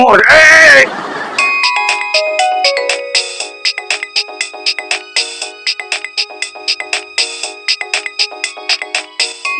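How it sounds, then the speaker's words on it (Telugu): A telephone ringtone repeats a bright, melodic electronic chime in a loud, regular loop, following a short burst of other sound at the start. "ఫోన్ అలా ముత్తుకుంటుంటే చూస్తూ కూర్చుంటావు?"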